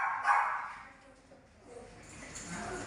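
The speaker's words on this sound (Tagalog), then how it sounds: "Ibang aso yun." A dog at an animal clinic barking and yipping somewhere off in the rooms, faint and somewhat distant amid a murmur of indoor background noise.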